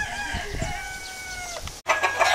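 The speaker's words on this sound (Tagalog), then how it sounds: "itong mga manok na kanya pong inaalagaan" Prized gamecocks raised for cockfighting crow and cluck close by, several overlapping calls with a sustained crow and sharp clucks, ending in a brief pause before more calls.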